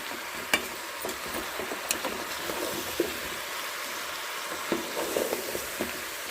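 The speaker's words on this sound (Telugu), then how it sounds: "దీన్ని ఒక్కసారి మనము తిప్పుదాము ఇలాగా" A vegetable curry sizzles and fries steadily in a pan, with a few brief scrapes and clinks of a spoon stirring it, fairly close and with no talking.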